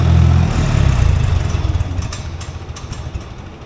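Old Farmall tractor engine, long unused and newly revived, idles very low and close. It runs as a steady chugging thump that slows into a loping, uneven beat with sharp ticking on top.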